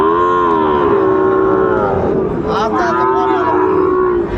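Cattle at a Dinajpur livestock market where Sahiwal bull calves are sold give a loud, close, drawn-out moo lasting several seconds, with a second animal joining midway over a busy crowd murmur.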